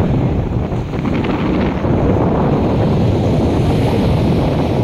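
Strong wind roars steadily across the microphone at the sea on Cijin Island, Kaohsiung, Taiwan, a constant buffeting rush with the faint wash of open water beneath it.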